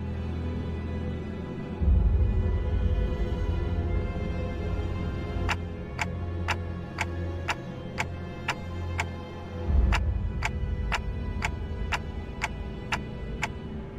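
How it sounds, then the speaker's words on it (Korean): Ticking from the video game Limbus Company: a steady run of sharp, evenly spaced clock-like ticks in two bursts, heard over a low droning rumble, with no talking. "저 째깍이는 소리가 해석이 되는 건가?"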